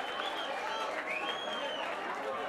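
Audience applause for a samba singer: a dense crowd clapping continuously with cheering voices mixed in, moderately loud and sustained throughout.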